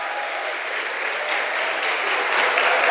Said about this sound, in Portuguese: Confesso que nunca vi uma salva de palmas tão bem dada como essa